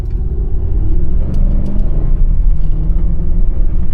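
A Ford 7.3 Godzilla V8 truck engine rumbles deep and close, building as it accelerates, steady and loud throughout.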